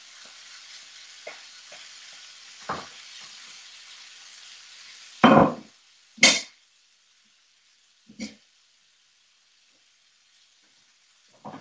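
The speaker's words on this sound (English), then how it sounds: "We're also going to add the onions" Onions for a stew sizzle and fry in a pot with a steady soft hiss, broken by a few louder stirring scrapes and knocks.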